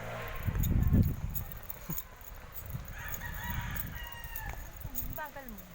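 A rooster crows loudly and close at the start, then clucks and softer fowl calls follow in a farmyard while people talk and move about nearby.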